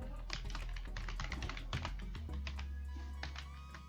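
Rapid clicking keystrokes on a computer keyboard as a file name is typed, a quick irregular run of taps close to the microphone over a low steady hum, ending in a short pause.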